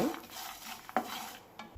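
Spices for a cashew and drumstick gravy masala are stirred as they fry gently in a pan on low flame, giving soft scraping and faint sizzling, quiet and close with no talk.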